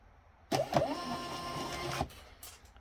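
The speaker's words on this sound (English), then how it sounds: "That's a 6x4 label printer." A 6x4 thermal label printer feeds out a shipping label in a single steady mechanical whir of about a second and a half, starting and stopping abruptly, close and fairly loud with no talking.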